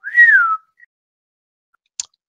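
A single short whistled note from a person, sliding up then down in pitch, clear and close, followed by near silence and a faint brief click.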